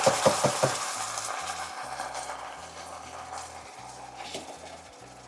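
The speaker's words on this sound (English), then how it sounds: "Just the initial frying of the beans" Refried beans with their juice hit a hot pan and fry, a soft steady sizzle under a few sharp metallic clinks of utensils at the start, fairly quiet and close.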